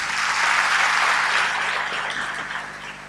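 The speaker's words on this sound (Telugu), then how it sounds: "ఈ ప్రశ్నకు జవాబు మాకు కావాలని వారు గట్టిగా చప్పట్లు కొట్టండి." Audience at a Telugu sermon clapping loudly on request, a dense steady wash of applause that swells early and tapers slightly toward the end, with no talking.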